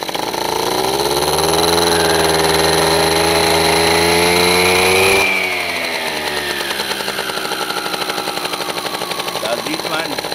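Italjet scooter engine revs hard and steadily for about five seconds, then drops to a lower, choppier idle as the clutch opens and closes, close and loud throughout.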